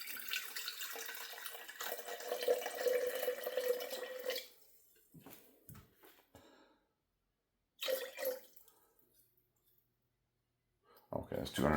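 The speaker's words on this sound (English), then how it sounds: "Then I'm going to add 243 grams of distilled water to my jar." Distilled water is poured from a container into a jar, a bright splashing trickle that runs for a few seconds, then stops, with short dribbles and a final pour after pauses.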